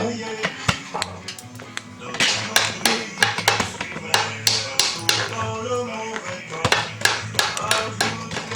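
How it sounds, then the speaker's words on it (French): Sharp blows of a Comana quarryman's hammer on stone during sculpting, many quick strikes in uneven bursts, close and fairly loud over a low steady hum. "Le marteau des carriers de Comana."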